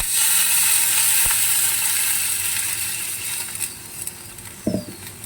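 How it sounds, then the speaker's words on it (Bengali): Water poured into frying spice paste for a Bombay duck and eggplant curry sets off a loud, hissing sizzle that slowly fades and settles, with a couple of faint clinks near the end. "এইবার আমি দিয়ে দেবো জল।"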